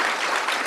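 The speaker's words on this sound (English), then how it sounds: "We should applaud that one" Audience applause from a seated crowd at a literary talk with a Booker Prize-winning author, a brief dense burst of clapping that fills the moment with no voices over it.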